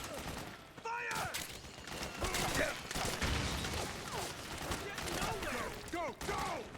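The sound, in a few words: gunfire in Metal Gear Solid 4 video game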